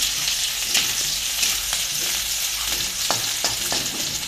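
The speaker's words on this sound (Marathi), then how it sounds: "ह्याच्यात घालूया आपण कांदा. कांदा चांगला लाल होऊन घेऊया." Onion frying in a pan for a spicy eggplant bhaji, a steady close sizzle with occasional stirring scrapes and clicks, no voices.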